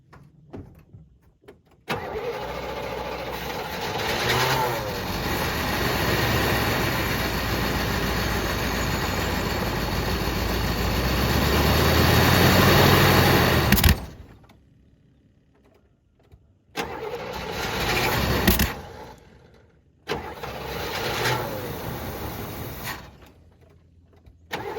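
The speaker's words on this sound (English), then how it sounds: "So let's crank her up." A long-forgotten 1979 Buick engine cranks loudly for about twelve seconds, then falls quiet before two shorter bursts of cranking and starting follow, separated by brief silences.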